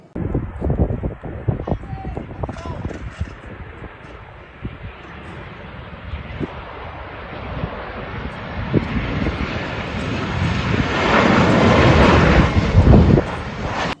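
An Indian Air Force airplane on a trial flight over Shivamogga airport. Its engine roar starts faint under wind buffeting, then swells into a loud, broad rumble that peaks near the end.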